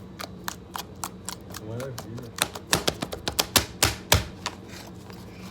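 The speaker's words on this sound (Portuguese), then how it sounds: "olha esse barulhinho de clique" Homemade slime being squeezed and worked gives off a run of sharp, crisp little clicks and pops, building to louder snaps near the end, while a person speaks briefly in the middle.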